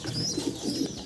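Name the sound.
pigeons cooing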